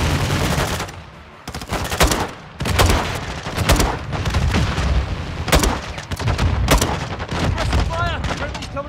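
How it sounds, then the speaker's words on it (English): Call of Duty: Modern Warfare II battle with grenade launcher fire: loud, heavy booms and blasts recurring every second or so amid steady gunfire and background combat noise, with voices shouting over the din. "A grenade launcher!"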